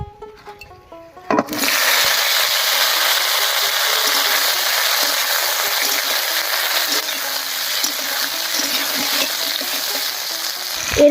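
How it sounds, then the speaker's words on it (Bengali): Sliced ridge gourd hits hot oil already holding dried red chillies, whole cumin and a bay leaf, bursting into a loud, steady frying hiss that carries on evenly and close up after a short, quieter start. "এর উপরেই কেটে রাখা ঝিঙেটা দিয়ে দিব।"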